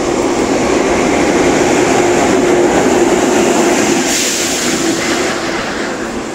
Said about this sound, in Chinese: 火车来了